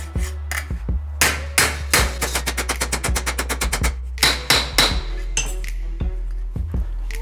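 Sheet metal is tapped around the edge of a tool to bend a handmade repair panel: loud, close, sharp metallic taps, some in rapid runs and others spaced, over a low steady hum.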